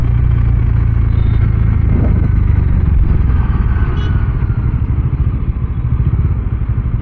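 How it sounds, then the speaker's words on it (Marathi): Road traffic in Mumbai, with cars and motorcycles close by: a loud, continuous low engine rumble with idling and revving motorbikes and occasional clatter, no talking. "झालं, लागलं ट्रॅफिक"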